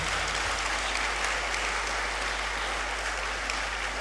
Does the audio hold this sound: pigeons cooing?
no